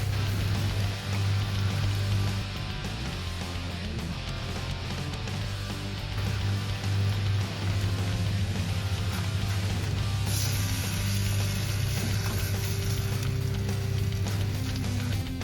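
Milk and cream sauce for crab mac and cheese bubbling and boiling in a pan, a steady dense hiss and crackle that fills the whole stretch, with a low hum underneath.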